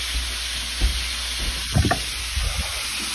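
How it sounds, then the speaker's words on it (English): Ground beef frying in a pan for enchiladas, a steady close sizzle with a few scraping stirs and clatters of a utensil against the pan. "We're starting to cook our beef."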